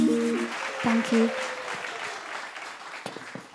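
A Kannada Rajyotsava stage audience breaks into applause as a song performance ends, the final sung notes fading into sustained clapping that gradually thins out.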